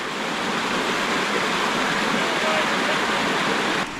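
Water gushes at high volume from a DIY hydroelectric pipe during flow testing. It makes a loud, steady broadband roar that holds constant for about four seconds and drops off abruptly at the end.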